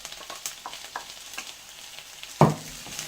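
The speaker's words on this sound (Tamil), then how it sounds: "இப்போ இதோட நம்ம வேக வச்சிருக்க அந்த பிரானை வந்து இதோட சேர்த்துக்கலாம்" Boiled prawns are stirred into sautéed onions for a prawn fry, with soft scraping strokes and a light sizzle, then one louder clank of the spoon near the end.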